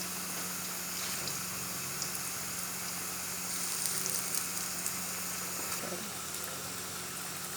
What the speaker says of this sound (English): Warm oil with small spoon, putting in warm oil.